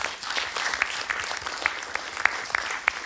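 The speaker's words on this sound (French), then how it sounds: "Je crois qu'on peut l'applaudir, on peut lever les mains." Applause from an audience at a presentation of a space agency's startup programme, a steady wash of many hands with sharper individual claps standing out, moderately loud and continuous throughout.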